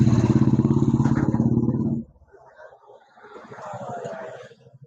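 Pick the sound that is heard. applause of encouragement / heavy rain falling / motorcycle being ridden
motorcycle being ridden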